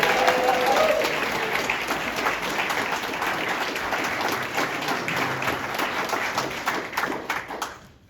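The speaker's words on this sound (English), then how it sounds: "Thank you for that wonderful applause" Steady applause from an audience honoring a fire department chief at a Sun City public meeting, dense and sustained for about seven seconds before tapering off near the end.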